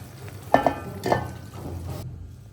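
A dry fruit mix fries in melted ghee, with two quick stirring scrapes over a low sizzle close by before the sound cuts off abruptly.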